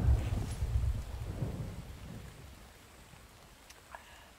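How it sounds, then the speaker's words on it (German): Thunder from a thunderstorm in the survival game The Infected rolls in with a loud low rumble at the start, then fades into steady rain hiss as the storm recedes. "Ich liebe dieses Gewitter in diesem Spiel."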